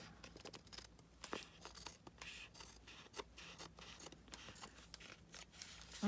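Scissors snip through fabric around the edges of a slow-stitch collage piece, a quiet series of crisp cuts and rustles, close and alone with no talk.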